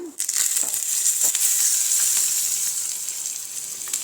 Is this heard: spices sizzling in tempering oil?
yes